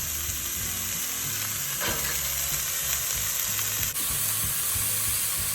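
Carrots, celery, onions and garlic sizzle steadily in a soup pot, a loud continuous frying hiss with occasional stirring scrapes, heard alone without talk.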